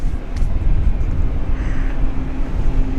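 A passenger airplane takes off at Sydney International Airport with a loud, steady engine roar and a low droning hum that holds constant throughout.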